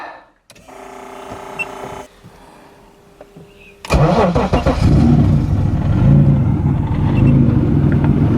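A turbocharged M50B30 engine in a BMW E36 starting after sitting unused since last season: a few seconds of starter cranking and whirring, then a sudden loud catch into a rough, steady idle.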